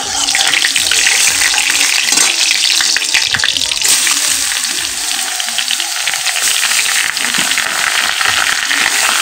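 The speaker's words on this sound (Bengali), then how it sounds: "তো চলো এখন গাজরগুলোকে দিয়ে দিই, ভালো করে এটাকে একটু নাড়াচাড়া করে গাজর দিয়ে দিই এটার মধ্যে।" Carrots fry loudly in a pan, a dense hissing sizzle filling the whole stretch while a utensil stirs and scrapes through them close by.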